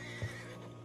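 A short, faint horse whinny in Red Dead Redemption 2, under a low steady background hum.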